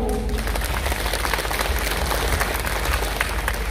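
Loud, continuous applause from a seated audience at a 25th-anniversary memorial meeting, a steady wash of many hands clapping without pause.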